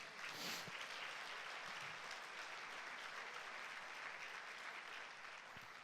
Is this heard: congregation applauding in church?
yes